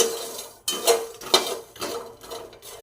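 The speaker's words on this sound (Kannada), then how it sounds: "ನೀಟಾಗಿ ಫ್ರೈ ಮಾಡ್ಕೊಳ್ಳಿ" A metal spatula scrapes and clinks around a pan while makhana (lotus seeds) are stir-fried with chili powder, salt and spices, giving a few irregular close stirring knocks over faint frying noise.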